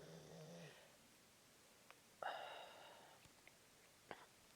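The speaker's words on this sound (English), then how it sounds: "The my Mastiff is snoring so loudly that I can hear her through my noise canceling headphones." A Mastiff dog snoring nearby, quiet and breathy, with a couple of drawn-out rasping breaths and a few soft clicks between them.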